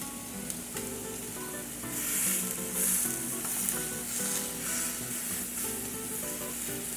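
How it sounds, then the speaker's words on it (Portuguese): Meat searing in a hot pan with thyme and parsley, a steady loud sizzle and hiss with bursts of spatter, a low hum underneath, no voices. "A gente vai dourar de todos os lados dessa carne, tá?"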